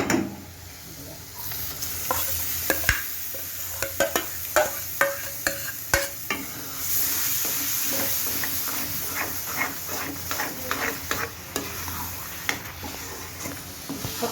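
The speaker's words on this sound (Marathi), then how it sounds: "आणि आता टाकूया आपण ही बघा ही स्मॅश केलेली भाजी बटाटा पण मी चमच्याने घेतलाय स्मॅश करून" Smashed potato and vegetables stirred into a sizzling pav bhaji pan, with a rhythmic run of spatula knocks and scrapes every half second or so over a continuous close frying hiss.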